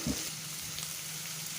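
Onions and curry leaves frying in hot oil for a chicken fry, a steady soft sizzle throughout with a brief louder crackle at the start as the leaves hit the oil.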